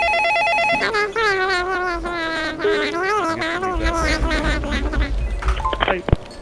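Rapid electronic telephone ring in a video game, a looping bell-like tone over bright melodic game music and chirpy effects, loud and continuous with busy sounds piling up toward the end.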